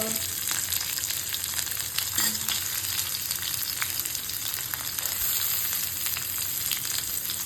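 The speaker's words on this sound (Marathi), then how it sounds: "कांदा टाकूया, चांगलं लालसर होईपर्यंत." Onion fries in oil with fried coconut, garlic and ginger, producing a dense, continuous crackling sizzle close up, with faint scraping of a spoon now and then and no talk.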